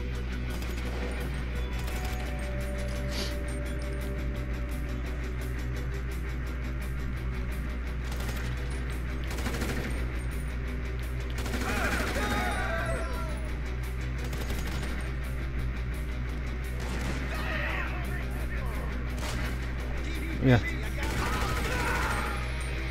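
Grand Theft Auto V gunfire rattles in repeated bursts of rapid shots, with crashes and voices at times over a constant low background hum.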